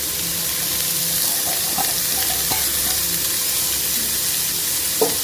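Sweet pumpkin pieces sizzle and fry in a hot pan, a steady dense crackle with faint stirring clinks and one sharp knock near the end.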